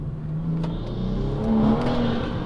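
A car at full throttle with wheels spinning on a dusty Nevada road, its engine droning and rising steadily in pitch for a couple of seconds, loud and close from inside the cabin, without voices.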